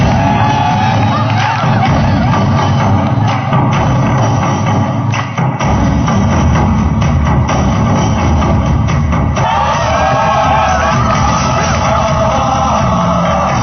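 Nightclub audience cheering, whooping and clapping, a loud continuous crowd roar that carries through the whole stretch with shouts rising out of it and a host's voice calling over the top.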